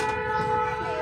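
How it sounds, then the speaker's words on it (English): A train passes near a factory on a nature walk, its horn holding a steady, sustained tone through the whole brief moment. "You hear that train?"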